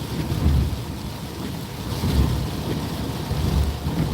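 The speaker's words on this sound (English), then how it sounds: "And I hope this rain is not going on tomorrow." Heavy rain and distant thunder surround a car on the road, a constant roaring wash with low swelling rumbles and wind buffeting, heard from inside the vehicle with no talking.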